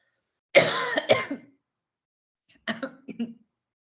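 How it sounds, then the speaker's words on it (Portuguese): Two bursts of coughing and throat clearing, close and fairly loud, separated by a short silence. "Só um minutinho que eu preciso tossir."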